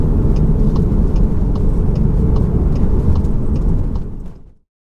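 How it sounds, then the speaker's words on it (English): A Ford Mustang drives at the Millbrook test track, a loud steady rumble and road roar that holds constant for about four seconds, then fades out quickly. "Just check out this Mustang."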